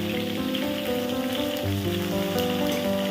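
Pieces of pointed gourd (potol) frying in hot oil for a vegetarian kalia, a continuous bright sizzle with a rain-like patter, steady and close, over a faint tonal background.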